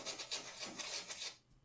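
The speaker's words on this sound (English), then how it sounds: "If the rotor makes like a scratchy noise" A Seiko automatic watch rotor makes a faint, close scratchy rasping as it spins, with a few uneven rubbing swells before fading out, with no talk.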